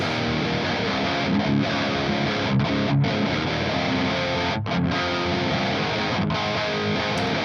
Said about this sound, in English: mono guitar part, straight up the middle, sounds like this.